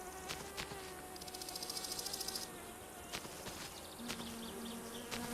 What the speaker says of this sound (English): Did you guys hear a wasp?